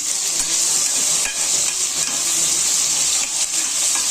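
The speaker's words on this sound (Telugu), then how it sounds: "ఇలా ఆనియన్స్ పచ్చిమిర్చి వేసి కాసేపు ఫ్రై చేసుకోవాలండి" Onions and green chillies frying in a pan make a continuous, close, busy sizzle with faint stirring scrapes throughout, and no voices.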